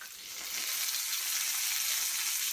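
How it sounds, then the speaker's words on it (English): Bacon frying in a pan while being turned, a steady bright sizzle that swells slightly as the strips are flipped, close and continuous with no talking. "So now we can go ahead and turn the bacon"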